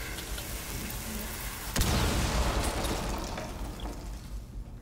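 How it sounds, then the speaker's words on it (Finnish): Explosion in the tactical shooter Rainbow Six: Siege, a sudden sharp blast cutting through a low ambient hum, followed by a rumbling decay with scattered debris crackle. "Toi oli kyllä räjähdys."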